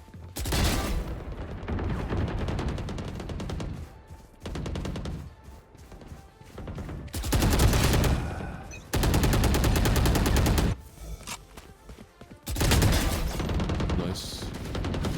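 Bursts of Phantom rifle fire in Valorant, dense and loud, come in repeated sustained volleys separated by brief gaps, with game effects and no speech.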